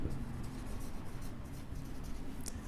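A pen scratches steadily across paper, faint and close, while a quadratic equation is written out in a maths lesson.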